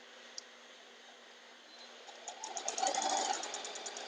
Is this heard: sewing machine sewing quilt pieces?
yes